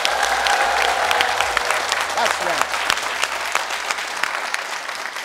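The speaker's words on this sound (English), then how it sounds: "I think that deserves an applause." Studio audience applauding at the close of a talk show episode, a dense, steady wash of clapping that runs throughout, with a brief spoken affirmation over it.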